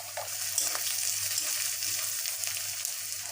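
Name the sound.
onions frying with chili powder in a pan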